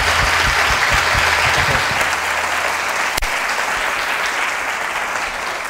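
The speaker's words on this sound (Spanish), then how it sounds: "le damos un aplauso" Audience applause for speaker David after a conference talk on entering the video game industry with free software, a full, continuous round of clapping from many hands that holds steady for nearly six seconds, with a few low thumps early on.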